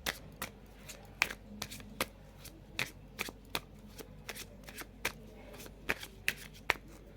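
Tarot cards being shuffled by hand: quiet, close riffles and slaps recur in an irregular rhythm throughout, with no talk.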